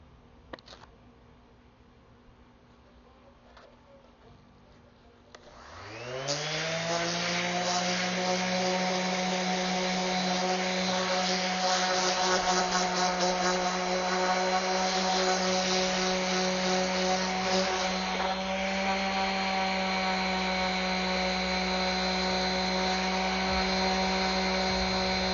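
A power sander starts on wood after a short quiet stretch and then runs as a steady, loud, high whine that holds for about twenty seconds, close by and with no voices.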